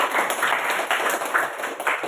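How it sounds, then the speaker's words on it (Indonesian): A classroom audience gives a short, dense burst of applause, a brief wash of many hands clapping at once with no voices over it. "Berikan tepuk tangan untuk kita semua."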